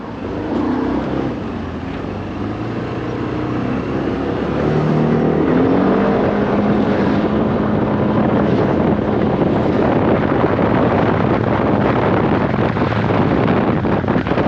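Romet GT 125 motorcycle accelerating on the road, its engine note climbing steadily and loudly through the whole stretch under heavy wind rush at the microphone.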